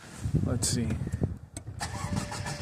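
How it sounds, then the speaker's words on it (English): A 2018 Mercedes-Benz GLC 300 with a crank-no-start fault when cold cranks over, a short rhythmic churning under a man's speech, ending in a rising whine as the motor turns. "First time cranking it since parking it from all the testing."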